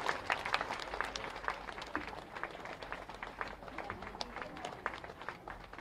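A crowd at a chief minister's public rally in Shahganj, Sehore district, applauds a garland welcome with scattered, steady clapping, distant and fairly faint throughout.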